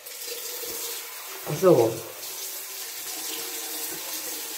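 A bathroom tap runs briefly to wet the face during a morning skincare routine, a short burst of splashing water mid-clip over a steady background hiss, with a person speaking faintly.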